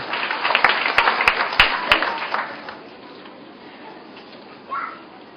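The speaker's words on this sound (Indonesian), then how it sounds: "Dengan tepuk tangan bagi Tuhan kita saudara" Church congregation applauding at an anniversary worship service, dense clapping loud for about two and a half seconds with a few sharp claps standing out, then fading away into quiet room tone.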